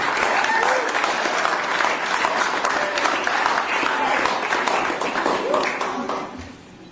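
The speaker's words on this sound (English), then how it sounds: "let's give a round of applause to the parents and the children." Dense audience applause for parents and children at a live radio show event, a steady continuous wash of many hands clapping that holds at full level and fades out near the end.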